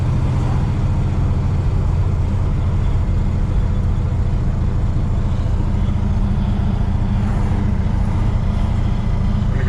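A 1968 Oldsmobile Cutlass engine idling steadily, a loud, even low rumble with a continuous throb and no pauses, heard close up with no talking.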